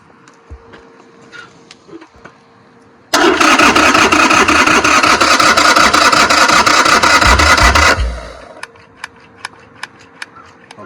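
A motorcycle engine with a carburetor being cranked, a loud, rapid, steady churning of the starter for about five seconds that then stops, followed by quiet ticking clicks nearby.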